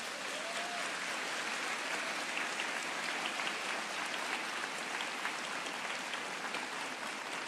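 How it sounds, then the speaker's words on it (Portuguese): A church congregation breaks into steady, dense applause, many hands clapping together evenly for several seconds, heard from within the room at moderate volume, with no talking over it. "Sabe que eu ia pedir essa salva de palmas?"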